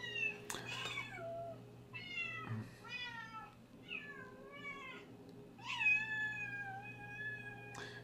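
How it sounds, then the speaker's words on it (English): A cat's meows blended with a tuba-like instrument in a playful mashup, several drawn-out, wavering meows sounding one after another over a steady low brass drone, fairly close and moderately loud. "a glorified tuba instrument, and the sound of a cat"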